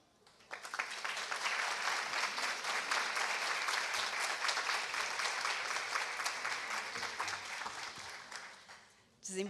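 Sustained audience applause honoring a female judge at an International Women's Day tribute, many hands clapping steadily for about nine seconds before fading out.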